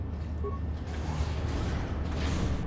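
A door opens in the video game Star Wars: Knights of the Old Republic with a steady mechanical creaking whir that holds at an even level for a few seconds over a low hum.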